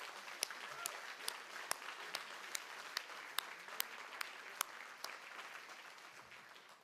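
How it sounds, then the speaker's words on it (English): Guests at an awards dinner give a round of applause, a fairly quiet spread of clapping with distinct, evenly spaced sharp claps standing out above it, gradually fading toward the end. "I'd just like to invite everyone to give a huge round of applause"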